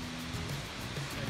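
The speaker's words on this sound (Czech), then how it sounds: "Nejkrásnější vodopády, který jsem kdy viděl." A waterfall in Bali pours with a steady, dense roar of rushing water, close and continuous, with no voices.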